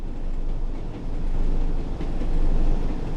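A Class 101 diesel train from a Train Sim World simulation runs along the line, giving a loud, steady low rumble that swells and dips slightly without any talking.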